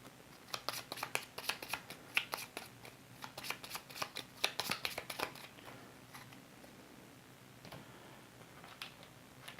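Board game cards are shuffled close by in a quiet room, a run of crisp riffling flicks and taps in irregular bursts, fading toward the end with no talking.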